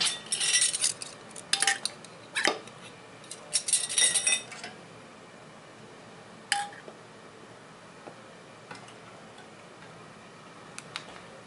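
Metal canning jar lids being handled while preserving peaches, a cluster of light clinks and taps at first, then sparse isolated ticks over quiet room tone, with no talking.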